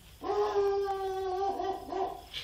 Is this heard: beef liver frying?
no